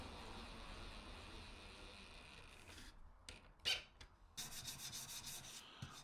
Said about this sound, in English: I'm just hand sanding everything over now, just breaking those edges of the sharp bits with a 180 grit sandpaper.